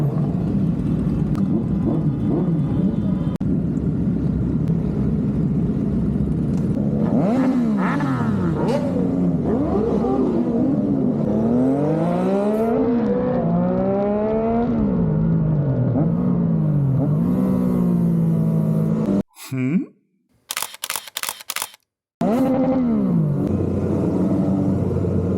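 Superbike engines warming up at Clark Speedway during a superbike championship event, a loud continuous rumble with rising and falling revs sweeping up and down, then a brief cutout and sharp bursts near the end.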